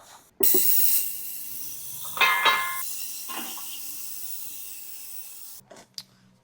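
Spray of water rinsing the intake parts of a barn-find Honda motorcycle carburetor, a steady close hissing wash for several seconds with a brief louder burst midway, then a few clatters as it stops.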